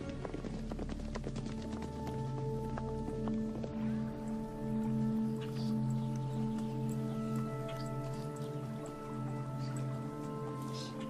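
Wild horses of European origin gallop, a steady patter of hoofbeats running beneath sustained musical tones throughout.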